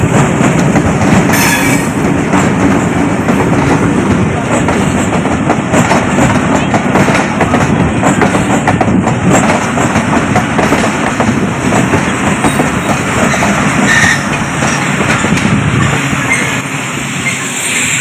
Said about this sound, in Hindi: दूर से ट्रेन आती हुई नज़र आ रही है।